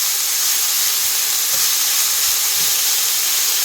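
Peppers for menemen dropped into hot sunflower oil, a loud continuous sizzle and hiss with a few soft clunks and stirring knocks scattered through it, no voices.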